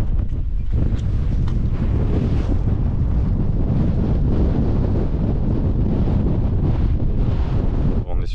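Steady wind roars across the microphone on the Brittany coast on a cold day, loud, broadband and unbroken for several seconds, with no voices.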